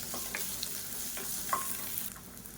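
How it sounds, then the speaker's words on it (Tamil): Onion and green chilies sauté in a pan for a tamarind chutney, a soft steady sizzle with occasional light scrapes of a spoon stirring, quiet and close with no talking. "இப்போ பாருங்கள், வெங்காயம் பச்சை மிளகா நல்லா வதங்கிடுச்சு"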